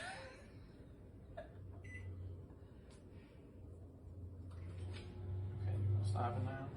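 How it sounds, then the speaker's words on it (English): A microwave oven heats chicken cacciatore with a steady low hum that runs throughout, swelling slightly near the end, while faint voices and small kitchen noises sit over it. "Done microwave."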